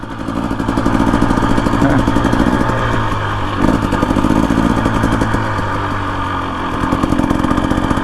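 A Husqvarna TE 250 dirt bike fitted with an FMF exhaust rides slowly in first gear, its engine a loud, steady close-up drone with a few slight surges in revs.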